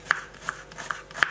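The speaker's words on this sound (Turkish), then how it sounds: "Mor soğan, sarımsak böyle doğruyor." Knife chops through red onion and garlic on a board in a village kitchen, four sharp evenly spaced strikes, close and clear with no talk.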